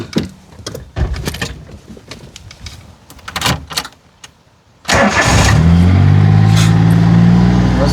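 A car on the third day of a road trip in the Masuria region after a breakdown, cranked and starting with a loud catch, then revving up and settling into a steady close engine roar after some thumps and handling noises.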